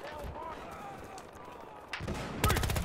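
Rapid bursts of automatic gunfire erupt near the end of a Battlefield Hardline multiplayer match on PS4, loud and close after a stretch of quiet game ambience, with a player talking over it.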